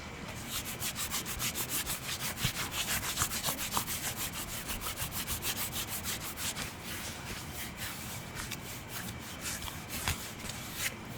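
Close, steady rubbing and scuffing of leather gloves, soft rhythmic friction strokes repeating continuously with no talking.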